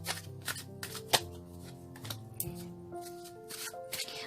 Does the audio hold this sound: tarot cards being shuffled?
yes